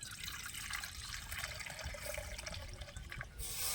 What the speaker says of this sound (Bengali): এই বাটি মাপ করে আমি এক বাটি জল দেবো আর একটু দেবো